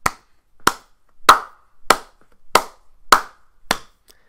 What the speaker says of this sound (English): I'd like to introduce a brief slow clap in honor of Pizarro's 160